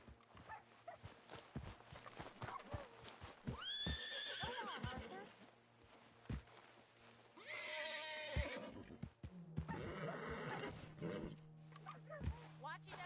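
Horses in the Red Dead Redemption 2 video game give several loud, shrill whinnies with snorts and scattered hoof clops between them, and someone speaks calmly in between.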